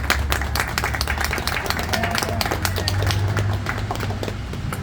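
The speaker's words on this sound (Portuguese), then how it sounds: "Uma salva de palmas para o Guilherme, por favor" Steady, dense applause from an audience at a book launch for the poetry book Poesia Contra a Barbárie in Belo Horizonte, with many hands clapping continuously and evenly from close range for about five seconds.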